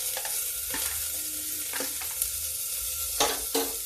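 Onions drop into hot oil with cumin seeds already crackling and settle into a steady close sizzle, broken by occasional stirring scrapes, with no talking.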